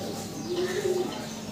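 A pair of big white king pigeons coo in a low, brief rolling burst, close and moderately loud over a steady background hum.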